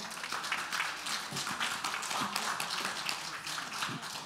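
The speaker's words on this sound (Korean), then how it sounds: "큰 박수로 맞이해 주시기 바랍니다." An audience at a forum welcomes a speaker with applause, a fairly quiet but steady patter of many hands clapping, heard from a distance.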